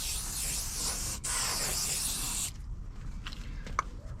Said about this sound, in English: Last thing it says to do is apply some protective sealer.